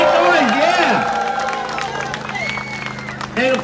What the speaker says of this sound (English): Not just clap, but make noise, yeah!